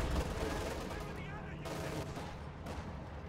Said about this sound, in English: The one-man sniper team popping away. The ISU also throwing in shots